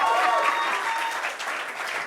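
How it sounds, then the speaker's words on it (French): A studio audience on a small Réunion talk-show set applauds steadily as a guest walks on, a continuous full wash of clapping from start to finish. "Applaudissements pour Kevin Aubin"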